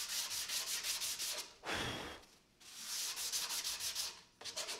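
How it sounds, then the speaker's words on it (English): Wooden floater frame being sanded by hand, a steady rough rubbing in long close strokes with brief pauses between passes. "the rest will be taken out with the sanding I do, which will now be of the entire frame."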